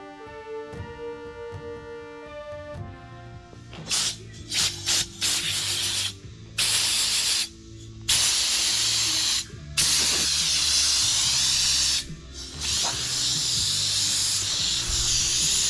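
Water sprayed from a hose onto an asphalt driveway during crack repair, a steady hissing spray that runs in bursts with brief pauses, close and fairly loud after a short musical tone at the start.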